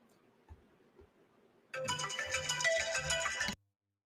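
An incoming call sets off a phone ringtone, a bright melodic electronic tune that starts abruptly after faint taps and quiet room noise, plays loudly for about two seconds, then cuts off.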